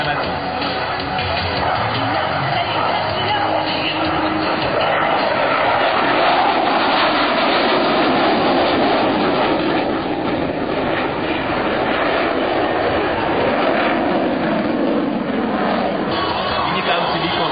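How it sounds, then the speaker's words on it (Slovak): A MiG-29 fighter with RD-33 engines roars through an airshow display, a loud continuous jet rumble and whine overhead, with a commentator talking over the engine noise. "Vynikajúci výkon motorov RD-33, ktoré dodávajú lietadlo MiG-29"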